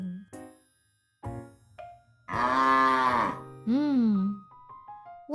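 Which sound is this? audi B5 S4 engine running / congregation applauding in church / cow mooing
cow mooing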